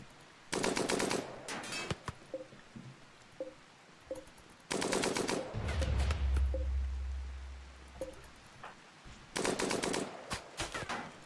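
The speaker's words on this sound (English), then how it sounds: "So there's still this live turret. I can shoot it from here." Bursts of rapid automatic gunfire in the RimWorld game aimed at a live turret, three loud clusters of shots separated by short gaps with scattered single impacts and a low rumbling blast in between.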